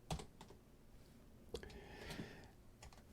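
Typing on a computer keyboard while entering code for a web radio player project on a Raspberry Pi, with quick irregular clicks in short bursts, fairly close and soft, and no talking.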